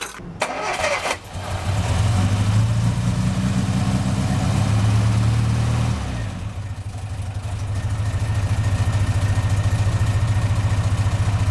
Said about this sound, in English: that engine hasn't run in about 24 years